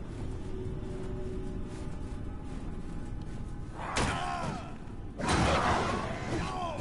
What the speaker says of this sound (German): Oh, tatsächlich, das macht wirklich eine Explosion.